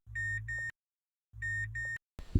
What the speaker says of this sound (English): That's from like when I turn the car on, it goes beep beep.